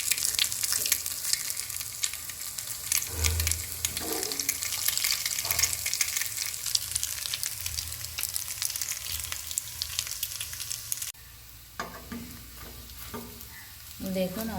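Potato and egg pakoras frying in hot oil as they are turned, a dense close sizzle with stirring scrapes and clinks, then a brief quieter stretch near the end.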